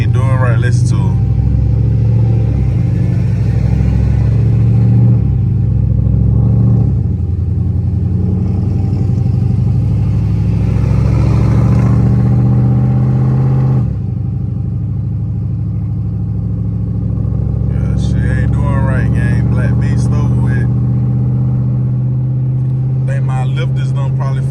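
A misfiring Dodge SRT8 with a 392 engine runs roughly, its uneven low rumble and shaking idle rising in revs, loud and close, with someone talking over it.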